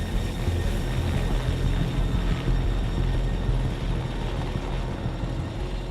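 A helicopter climbs steadily toward a wingsuit jump altitude of 3,500 meters, its loud, constant rotor and turbine drone filling the cabin without pause.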